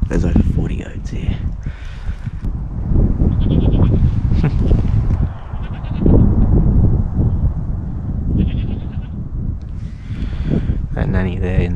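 A herd of over 40 goats bleats repeatedly over a busy outdoor background, with a person talking through much of it.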